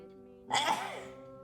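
A person sneezes once, suddenly and sharply, close by, against a quiet background with a steady hum.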